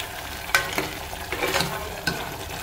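Eggplant and tomato curry sizzles in hot tempering oil while a spoon stirs it, giving a soft steady frying hiss broken by several sharp scraping strokes.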